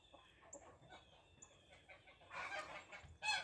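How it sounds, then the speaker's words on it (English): Chickens scratching and clucking beneath a rabbit hutch, working through hay wasted by the rabbits, give soft intermittent clucks and faint calls at mid distance, building to a louder burst of cackling near the end. "Here's a good example of chickens working under the rabbit hutch."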